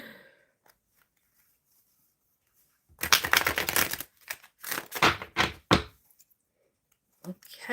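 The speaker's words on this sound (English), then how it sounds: "let me give it a good shuffle" Tarot cards shuffled by hand in a burst of riffling, papery rustles lasting about three seconds, followed by several shorter shuffling bursts, close and fairly quiet with silence around them.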